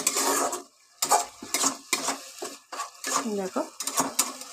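Spices and ginger-garlic paste being fried down in a pan while a spoon stirs and scrapes in uneven bursts with a soft sizzle between strokes; a voice speaks briefly.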